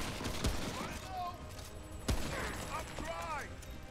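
Gunfire in a video game final boss fight: a few quiet, sharp shots spaced through the clip, faint under in-game sound effects and low background noise.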